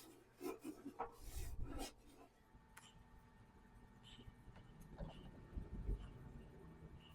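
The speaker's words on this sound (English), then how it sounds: "I'm going to apply a little bit more wax." Wax being rubbed by hand onto an upcycled wooden decor piece, a soft rasping scrape in short strokes, louder bursts early then steadier quieter rubbing, close and alone.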